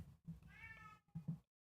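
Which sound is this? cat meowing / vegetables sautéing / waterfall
cat meowing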